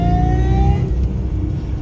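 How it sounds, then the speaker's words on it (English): A Jaguar S-Type R with a supercharged V8 accelerates hard, its low engine roar close and loud, with a rising supercharger whine over the first part before the note shifts as it pulls away. "let's go ahead and get some supercharger sound"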